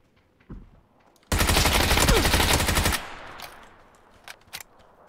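Sustained automatic gunfire in PUBG on the snowy Vikendi map, a loud dense burst of rapid shots lasting nearly two seconds, followed by a few scattered single shots further off.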